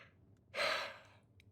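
A single drawn-out yawn from a player in a Dune: Awakening session with friends, a breathy swell lasting under a second in a quiet room, close and moderately loud, with no talk over it.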